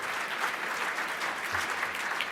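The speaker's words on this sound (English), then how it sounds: "yeah, you can clap for that, Patty, thank you." An audience at a business and humanitarian awards ceremony applauds in a steady, moderately distant round of clapping that continues for a couple of seconds.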